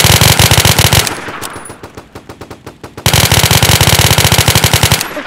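Rapid automatic gunfire in a shooting video game, a loud burst of fast shots, then a sparser run of separate shots, then another long, dense volley, with no voice over it.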